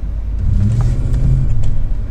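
A Toyota Land Cruiser 80 with the 4.7-litre V8 pulls away from a standstill in traffic, a deep steady engine rumble building loud and close from inside the cabin.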